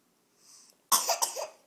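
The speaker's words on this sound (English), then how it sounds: "You did cough." A child's cough, close and fairly loud: a few quick harsh bursts in a row, preceded by a faint soft sound, with no talking.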